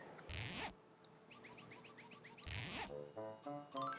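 A zipper on a woolly door in Yoshi's Woolly World, two quick rasping zips a couple of seconds apart, set against soft chiming game music.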